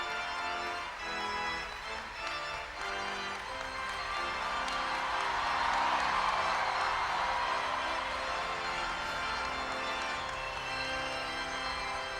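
Thousands of people gathered for the Pope applaud and cheer together in a steady, dense wash of clapping and voices that swells slightly midway and holds at a constant distance without pause.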